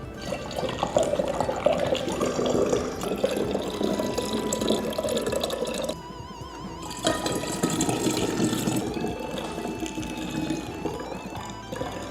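Kefir drink is poured through a funnel into a bottle, a continuous gurgling trickle of liquid with a brief pause midway before the pour resumes.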